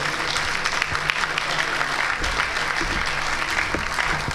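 Dense, sustained applause fills the room at an awards ceremony, loud and even throughout with no voices over it.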